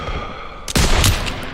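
Burst of heavy machine gun fire in a Call of Duty: WWII battle in a town square with a half-track nearby: sharp rattling shots erupt midway, loud and close, over a steady background of combat din.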